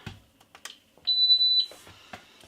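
Lidl Silvercrest double induction hob switched on with a pan on top, one clear sustained electronic beep of about half a second between soft handling clicks and taps.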